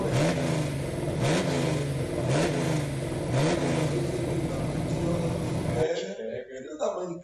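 A 20-year-old carbureted race car engine runs close by with a loud, rough, steady drone and a few surging revs. It cuts off abruptly near the end.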